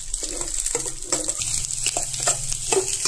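Egg and onions fry in a pan while a ladle scrapes and turns them in repeated strokes over a continuous sizzle, heard up close with no one talking.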